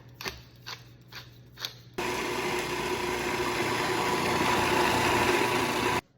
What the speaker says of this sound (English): I've blended all my cheeses and my egg and my spices together in the food processor